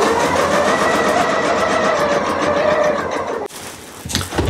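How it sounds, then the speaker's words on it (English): A sewing machine runs steadily stitching a long basting stitch around a fabric mason jar cozy, its fast even whirring close and continuous before stopping, followed by faint handling sounds. "I'm just going to go stitch all the way around with a long basting stitch, usually a stitch length of like 4"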